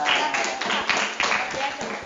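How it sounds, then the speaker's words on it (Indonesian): Students in a classroom clap for a classmate, a short burst of scattered, uneven hand claps from a small group, fairly close, with some voices mixed in. "tepuk tangan temannya"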